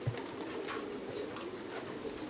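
A homing pigeon at the loft during a racing club arrival gives soft, low cooing calls close by, with faint rustling in the quiet background.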